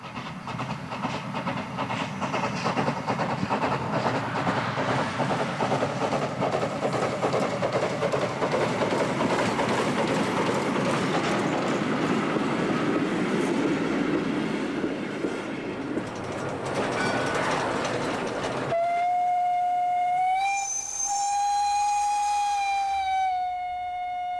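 Prussian T3 0-6-0 tank locomotive hauling a historic special train in the Odenwald, a steady loud rumble of working steam and rolling carriages, ending with a long shrill whistle blast.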